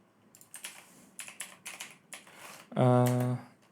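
Brief clatter of typing on a computer keyboard, a short burst of keystrokes near the end, following someone speaking in mixed Hindi and English.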